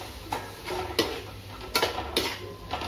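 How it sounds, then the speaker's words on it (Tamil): Cauliflower and potatoes being stirred in a pan, a spoon scraping and knocking against the metal in irregular taps about every half second, fairly quiet and close, with no talking. "நல்லா இந்த அளவுக்கு கிண்டிக்கணும்"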